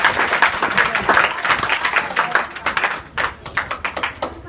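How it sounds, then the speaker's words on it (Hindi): School students clap together at an inter school in Mahuwa Murarpur, Azamgarh, with quick uneven rounds of applause, loud at first and then breaking into scattered bursts. "ताली बजाओ।"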